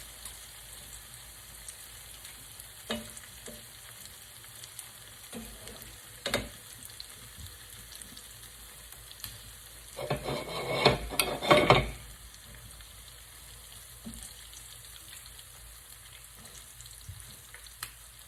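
Shrimp fry in hot grease on a stovetop with a steady close sizzle, briefly louder with stirring and clattering partway through, then settling back to a soft crackle.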